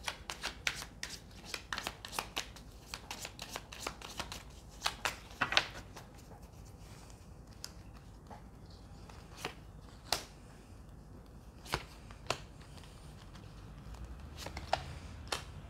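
Fortune-telling cards shuffled by hand, a quiet, close run of sharp papery snaps and riffles in irregular clusters that keeps going for about fifteen seconds.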